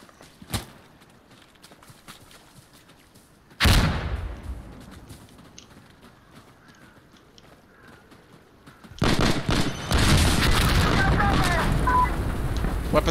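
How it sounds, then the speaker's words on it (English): A frag grenade in Insurgency Sandstorm detonates with a sudden loud boom that fades into rumble, followed later by sustained heavy gunfire and blasts amid faint background noise. "I'm throwing a frag!"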